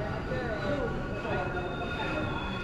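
The Andaman Express, a train with new LHB coaches, rumbles steadily through Singarayakonda station with faint metallic squeals over a continuous low roar, close and fairly loud.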